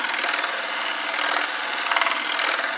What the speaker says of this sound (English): hold it by hand and roll it around on that countersink to open up the back end a little bit